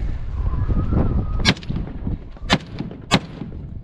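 Issued Sig Sauer M17 pistol or Colt M4A1 rifle fired on an outdoor range at Piñon Canyon, three sharp, loud single shots spaced about a second apart over a rumbling background.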